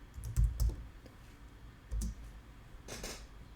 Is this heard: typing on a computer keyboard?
yes